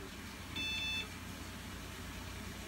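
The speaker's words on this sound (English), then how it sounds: "after the double beep" A Packard Bell Legend 108CD Supreme PC gives a short double beep during startup, a brief pair of high tones heard alone over a steady low hum of the machine.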